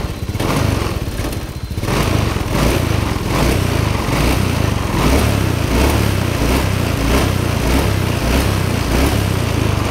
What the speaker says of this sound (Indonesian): Sekarang kita coba ya, kita hidupkan sekali lagi. Oke, sudah hidup. Sekarang kita gas.